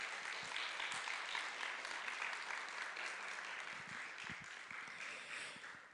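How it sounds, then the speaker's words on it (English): An audience at a school concert applauds steadily and fairly loudly for the full stretch, a dense wash of many hands clapping with no voices standing out. "Can we give him a round of applause, please?"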